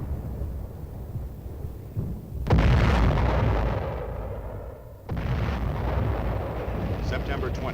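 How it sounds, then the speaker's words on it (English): Heavy artillery fire and explosions in Korean War combat footage, with the 2nd Infantry Division's battle for Old Baldy, as a continuous loud roar with a sharp, booming burst partway through and rumbling that carries on after. "Heavy air and artillery fire was immediately focused on the enemy."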